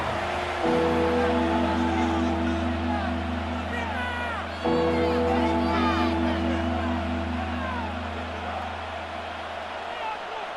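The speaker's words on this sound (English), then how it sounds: "this crowd urging on their defense. They're up and making noise" A simulated stadium crowd in the Madden 26 football game roars steadily for the defense on third down, a broad continuous din with rising whoops, under play-by-play commentary.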